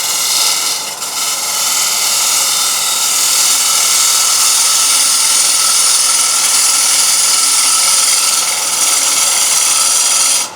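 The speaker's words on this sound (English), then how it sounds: "I can turn it around and make a bevel rubbing cut." A woodturning tool makes a bevel-rubbing cut on a sycamore platter spinning on a wood lathe, producing a loud, steady, close hissing scrape that runs unbroken throughout, with no talking.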